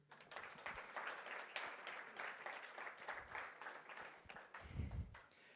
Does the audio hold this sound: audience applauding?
yes